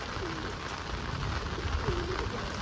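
Steady rain pattering all around, with a pigeon cooing softly twice in the middle of the downpour.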